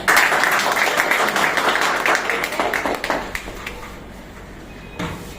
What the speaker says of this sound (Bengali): এই প্রোডাক্টের জন্য কি একটা হাততালি হয়?